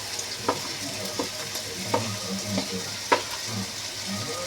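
Chicken curry sizzles steadily in a pan as chili powder, pepper powder and garam masala are stirred in. A spoon scrapes and taps the pan every second or so over the constant frying hiss.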